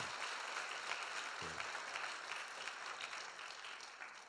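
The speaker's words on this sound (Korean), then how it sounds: "박수 한번 쳐주시기 바랍니다." A congregation at a New Year's Day 2016 church service gives continuous, fairly faint applause, with a short spoken word cutting in briefly near the middle.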